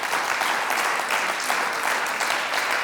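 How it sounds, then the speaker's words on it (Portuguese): Sustained clapping from a church congregation fills the space, dense and steady throughout with no pauses, loud and close with no talking over it. "Dê uma salva de palmas a Jesus"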